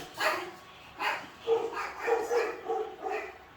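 Several dogs bark in a quick irregular series, sharp yapping calls repeating at a moderate distance, fairly faint.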